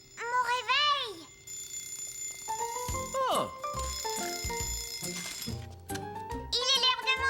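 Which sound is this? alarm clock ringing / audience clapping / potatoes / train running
alarm clock ringing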